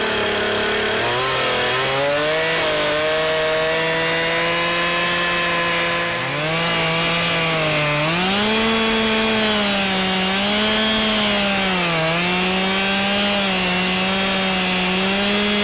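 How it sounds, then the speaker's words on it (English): A chainsaw plunge-cuts into a log being hollowed out as a tree-beekeeping hive, its engine droning loud and steady throughout with pitch rising and dipping as the revs and load shift. "plunge cutting is probably the most dangerous way of using a saw"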